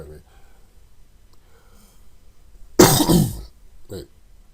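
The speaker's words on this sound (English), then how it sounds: "Let me clear my throat." A single loud, harsh throat clearing bursts out close by after a quiet stretch, followed by a smaller short grunt.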